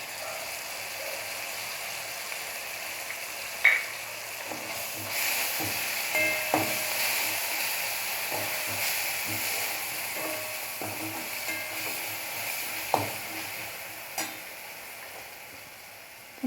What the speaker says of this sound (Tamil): வெங்காயம் வதங்கிடுச்சு. நம்ம இஞ்சி பூண்டு விழுதை கொஞ்சம் ஆட் பண்ணிக்கலாம்.